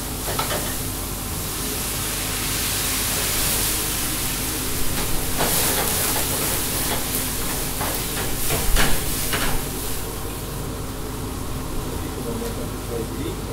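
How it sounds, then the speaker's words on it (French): Gambas frying in a pan with garlic, onion and crushed tomatoes, flambéed with pastis: a steady loud sizzle and hiss runs throughout, with a few sharper crackles and a brief flare near the end. "On va flamber avec le pastis."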